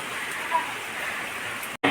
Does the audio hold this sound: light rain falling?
yes